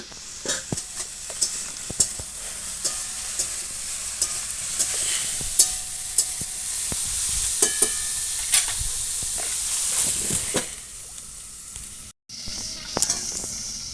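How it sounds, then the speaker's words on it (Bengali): Steady frying sizzle of cauliflower in a pan, broken by repeated scraping stir strokes, close up and fairly loud, with no talking. "নাড়িয়ে ভালো করে ভাজছি।"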